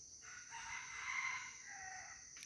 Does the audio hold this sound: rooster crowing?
yes